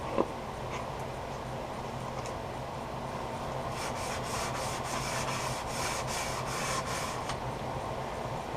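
A wooden chip and dip server made of soft wood is being sanded with steady rubbing and scraping strokes. The strokes become more distinct and rhythmic in the second half and are heard up close with no talk.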